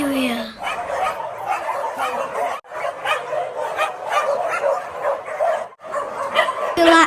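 Several dogs bark, yip and whimper repeatedly in an animal shelter's aggressive and defensive area, a dense overlapping chorus close by, with a person speaking in between.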